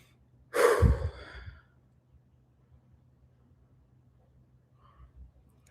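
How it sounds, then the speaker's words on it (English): A single human yawn, a loud breathy drawn-out exhale lasting about a second, close to the microphone, followed by near silence and faint room hum. "sorry for not covering my mouth when I yawn"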